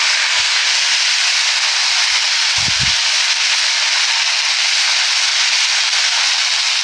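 Cumin and ginger paste hits hot oil in a pan while cooking a banana-flower dish, giving a loud, continuous hissing sizzle with a few faint low knocks.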